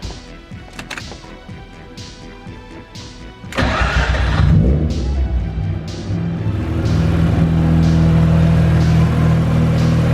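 A BMW E36-based truck engine cranks and fires up after an oil cooler install, catching at once and settling into a loud, steady idle nearby; no one speaks.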